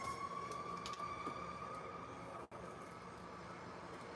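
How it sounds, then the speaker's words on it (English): A siren rings out from an ambulance passing along a busy street, its steady high wail holding over constant traffic noise and sustained for several seconds, with a brief dropout midway. "there was just a really loud siren"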